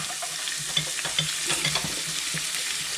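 Garlic and onions fry in a pan for risotto alla milanese, a close, steady crackling sizzle with scattered pops and stirring scrapes and no talking.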